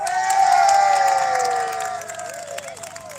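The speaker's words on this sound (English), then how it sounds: "Can you give a round of applause to Yunus?" A crowd at an outdoor charity run in a park cheers and applauds a young runner, with loud sustained whoops and shouts carrying over scattered clapping that gradually eases off.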